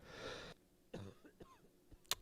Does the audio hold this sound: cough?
yes